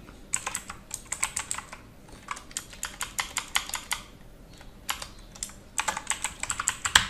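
Fingers type on a computer keyboard in quick bursts of close, crisp clicks, with short pauses between runs of keystrokes and no talking.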